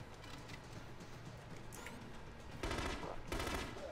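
Suppressive gunfire in the shooter video game The Conduit, a fairly quiet run of rapid shots that swells into two louder bursts near the end, no talking.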